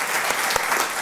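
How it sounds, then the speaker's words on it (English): A live audience at a business panel discussion on technology breaks into steady, dense applause, close and loud throughout the short burst with no talk over it. "Give them a round of applause."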